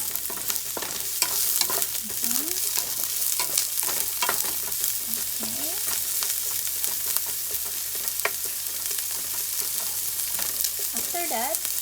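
Celery sizzles steadily in a hot pan while being stirred, with scraping strokes and small clinks over the continuous frying hiss.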